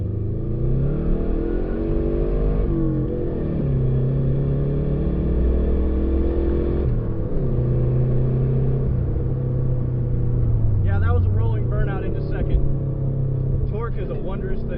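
A car with a freshly swapped transmission accelerates hard from a slow roll, its engine roaring loud and close as revs climb, drop at a gear change, and build again, with voices talking over it.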